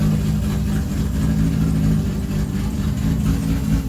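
A Yamaha R6 motorcycle with only 3,000 miles runs in damp conditions, its engine giving a loud, steady, close rumble that holds without clear revving for the whole stretch.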